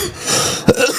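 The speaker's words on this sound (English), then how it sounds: "And the man can't even cough on stream?" A man gives a single short, sharp cough, close to the microphone and alone.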